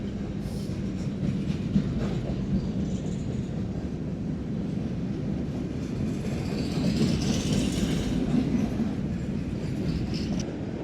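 Freight train with a distributed power locomotive passing at Crofton, Kentucky, a continuous low rumbling roll of wagons with faint clickety-clack and occasional wheel squeal, steady and moderately loud throughout.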